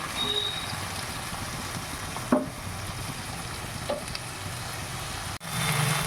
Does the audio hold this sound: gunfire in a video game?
no